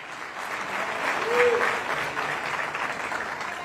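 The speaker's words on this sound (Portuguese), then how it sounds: "Então aplausos ao Senhor neste lugar." Congregation applauding during a church service, a steady, dense wash of clapping that swells briefly near the middle and holds at an even level throughout.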